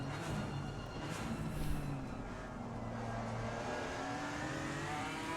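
A BMW GT4 race car engine in Assetto Corsa Competizione at Spa-Francorchamps roars steadily, its pitch climbing and dropping as it shifts up through the gears, loud and continuous with no voices.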